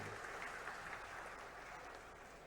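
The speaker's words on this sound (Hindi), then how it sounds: "एक बार जोरदार ताली बजा दो पूरे मंच के लिए।" A crowd at a farmers' and employment conference rally in Dandraua claps together for everyone on the stage, a steady dense wash of applause that holds at an even level for the whole moment.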